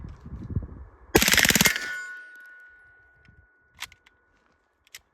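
A Heckler & Koch MP5K submachine gun fires one short full-auto burst of rapid, sharp shots, followed by a ringing metallic tone and a few later clinks, with brief talk just before.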